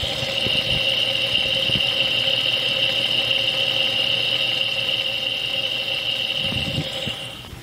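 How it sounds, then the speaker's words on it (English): A car engine idles close by during diagnosis of a knock near the timing cover and distributor clamp bolt, giving a loud, steady hum with a sustained high-pitched whine and faint ticking. "There is some noise at the distributor clamp bolt."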